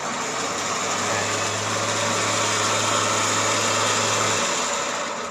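An electric winch hidden in the front of a Mitsubishi Pajero, with a large motor, runs under remote control, pulling in with a steady whirring hum against continuous background noise for a few seconds before stopping.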